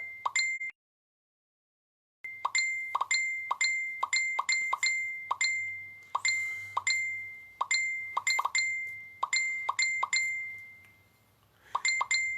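A mobile phone plays its notification chime again and again in quick bursts, clear bell-like tones stacked closely, with one short gap of silence near the start and no one speaking.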